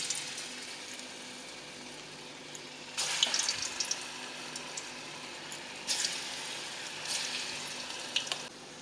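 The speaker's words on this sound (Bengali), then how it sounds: "পেঁয়াজ কুচি, ধনে পাতা কুচি, লঙ্কা কুচি দিয়ে এটা গরম তেলে ভেজে নেব।" Chopped onion, coriander leaves and green chili frying in hot refined oil, a steady close sizzle with louder bursts of spattering at intervals.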